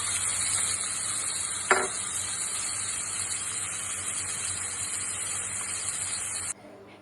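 Chicken momo filling fries in a pan with a steady, close sizzle. One brief scrape of stirring stands out before the hiss drops away abruptly near the end.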